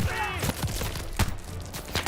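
Gunfire in the video game Call of Duty: Vanguard, with several sharp shots cracking at irregular intervals between excited German speech from a player.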